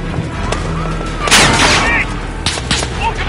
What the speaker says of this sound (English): Automatic weapon!